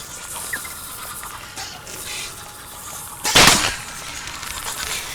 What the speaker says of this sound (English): It sounds like a cannon to me when we fire the bear crossbow